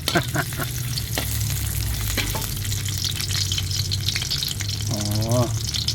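Garlic sizzles in boiling oil at the start of a simple vegetable stir-fry, a steady close frying hiss with a few sharp crackles. Brief voiced sounds break in near the end.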